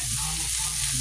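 Vegetables fry in avocado oil while being stirred, giving a dense, continuous close sizzle with soft scraping movement beneath it and no talking.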